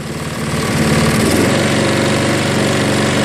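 A Craftsman self-propelled lawn mower engine revs up from idle, its chugging putter quickening into a steady, higher, loud drone close by, with no voices.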